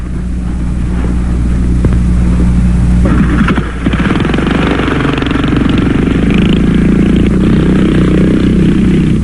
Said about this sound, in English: going to take the second car out of the garage